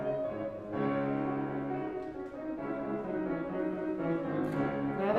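An orchestra plays a passage from bar 23 at a slowed tempo during a rehearsal, with sustained, steady harmonic lines at moderate volume and no talking.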